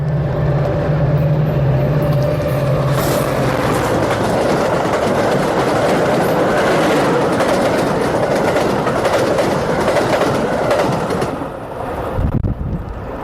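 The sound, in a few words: express train passing through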